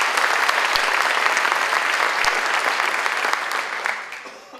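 An audience at a spring instrumental concert applauds graduating students: dense, loud, sustained clapping that gradually thins and fades toward the end.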